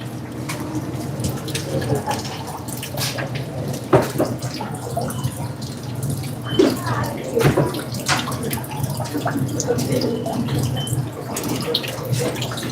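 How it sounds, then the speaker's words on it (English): Cooked rigatoni pasta is drained of its excess water in a busy work kitchen, with a continuous close rush and splash of water and scattered clunks and knocks throughout. "Okay, excess water is drained."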